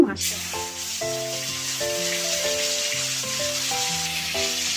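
Fish frying in hot oil for a home-style vegetable curry gives a steady, even sizzle that runs throughout, partly covered by louder background music.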